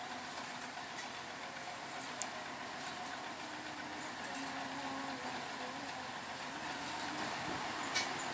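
A long railway train of lorry wagons, led by a locomotive, approaches a level crossing with a steady, fairly distant rumble and faint rail clatter that builds slowly, with a couple of brief sharp clicks.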